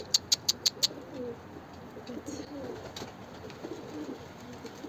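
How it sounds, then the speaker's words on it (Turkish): Pigeons coo softly and repeatedly while being fed. Five sharp bright chirps open the scene, a person says a word, and low cooing continues underneath at close range. "Güvercinlerimizi de yemliyoruz biz burada"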